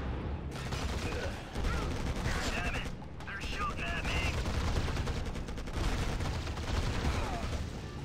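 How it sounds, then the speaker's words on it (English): Sustained gunfire from enemy forces in the real-time strategy game Act of War, dense overlapping shots and bursts rattling continuously with explosive game noise, a voice occasionally audible underneath. "They're shooting at me!"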